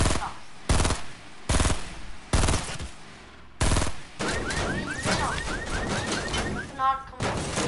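A rifle in a video game fires in loud single cracks at uneven intervals, then gives way to denser rapid gunfire and other game noise while people talk.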